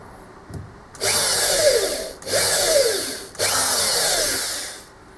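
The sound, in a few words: drilling little divots into the key stock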